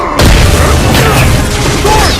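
A grenade explosion in the Halo 4 video game booms loudly after a brief quiet start, then rumbles on with a dense low roar and debris-like crackle for about two seconds.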